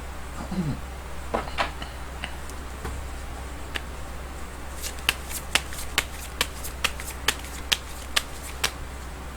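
Tarot cards are shuffled for a daily horoscope reading, first as soft hand-shuffling and then as a run of evenly spaced, sharp card flicks close to the microphone, over a low background hum with no talk.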